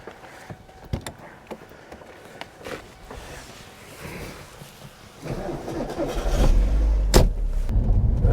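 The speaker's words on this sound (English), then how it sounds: "We're going to jump in the 968 Coupe, and go out for a little spin, get some drive-by shots" A Porsche 968 Coupe drives past on a road, a low engine note swelling from a distant hum to a loud, close rush of tyres and exhaust in the final seconds.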